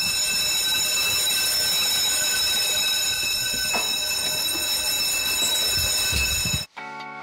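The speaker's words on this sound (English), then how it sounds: "That was the sound of the bell in the queue shed at Royal Air Force Coningsby." A continuous electric alert bell in an aircrew readiness shed at RAF Coningsby rings steadily with a harsh metallic tone for several seconds, then cuts off abruptly.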